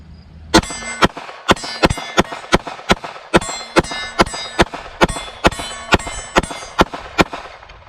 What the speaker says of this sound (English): This one I'm just going to try the mag dump on the big silhouette here.